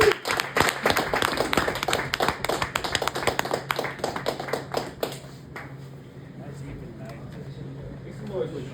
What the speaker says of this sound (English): Make some noise for Sean one more time, yo